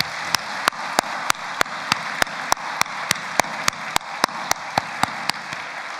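A church congregation applauding in encouragement: a steady wash of clapping with sharp, evenly spaced claps that keep a regular beat, fairly close and with no talk.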